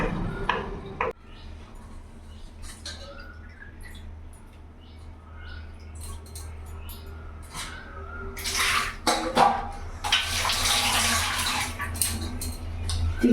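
Shrimp being cleaned for a doi chingri curry, with quiet handling and small clinks at first, then water splashing and running in louder bursts toward the end.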